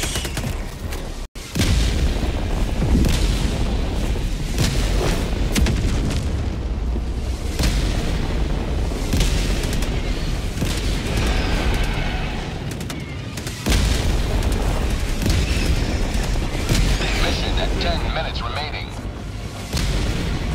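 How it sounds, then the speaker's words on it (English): Orbital barrage explosions in a video game pound in a dense, continuous rumble of heavy booms and blasts, loud and close, with voices speaking over the bombardment. "Firing orbital barrage."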